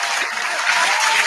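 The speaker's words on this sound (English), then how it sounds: "Yes, you guys all can applaud that." A brief burst of dense audience clapping at a live show, loud and continuous without talk.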